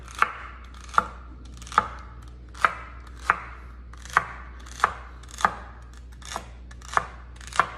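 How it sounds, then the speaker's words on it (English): A knife slices celery on a cutting board in a steady, evenly spaced rhythm of crisp chops, about eleven in all, close and clear over a faint low hum, with no talking. "And then we'll slice up our celery."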